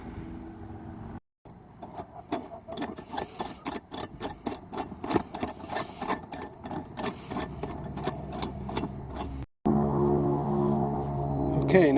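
Threaded Pentair cartridge filter housing being twisted off, heard as a rapid series of close, irregular clicks and ticks that stop abruptly, with brief silent gaps at both ends.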